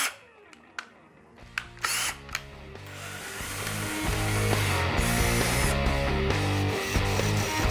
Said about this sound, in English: I'm gonna do the initial pilot holes with a brad point drill bit